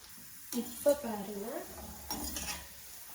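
Mixture snack frying in hot oil until golden brown, with a soft sizzle under a few spoon scrapes and clinks against the pan, quiet and close, while a voice speaks briefly.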